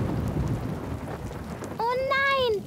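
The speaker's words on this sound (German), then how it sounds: "Oh nein, da zieht ein Gewitter auf." Cartoon thunderstorm: a steady hiss of rain fills the scene, then a chirping, sweeping tonal effect rises near the end, fairly loud and unaccompanied by speech.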